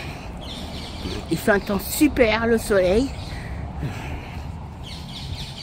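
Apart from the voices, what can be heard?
birds singing in a Paris park in May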